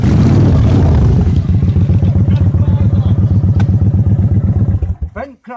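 A friend's motorcycle pulls up close and loud, then settles into a rhythmic, lumpy idle with a steady chugging beat before cutting off near the end, with speech mixed in.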